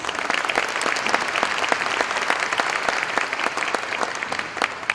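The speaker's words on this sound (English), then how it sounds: "Let's give them a round of applause." Applause from the audience at the 2013 Moton Community Banquet greets a sponsor, Prince Edward County, as its members stand: loud, close, sustained clapping from many people, dense and even throughout.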